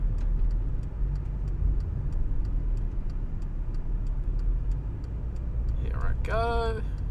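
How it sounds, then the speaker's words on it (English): Cabin sound of a car driving up a road, recorded from inside on a small phone-mounted microphone: a steady low engine and road rumble with regular faint ticking like an indicator, and a brief voice near the end. "So I'm just driving up the road at the moment on the VideoMic Me."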